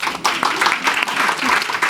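Audience applause fills a lecture hall at a talk on truth, deception and artificial intelligence, a short, dense burst of clapping heard up close and loud.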